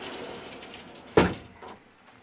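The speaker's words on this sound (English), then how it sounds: "Let's open the door the other way." Shower door in the bathroom of a 2023 Fleetwood diesel pusher RV swung open, a single sharp clack near the middle followed by a softer bump, in a quiet room.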